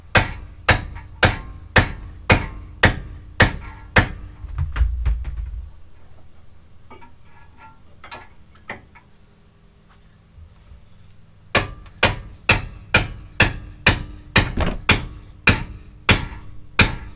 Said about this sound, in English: Gonna use a sledgehammer as well.